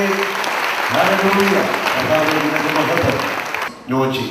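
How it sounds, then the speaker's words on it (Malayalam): A church congregation breaks into loud, sustained applause after a healing prayer at a Christian worship service, the dense clapping filling the room with voices mixed in, then cutting off briefly before resuming near the end. "കൈയടിച്ച് നന്ദി പറഞ്ഞേ"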